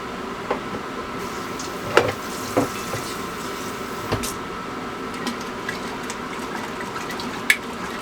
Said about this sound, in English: Now I'm going to go ahead and wash this jar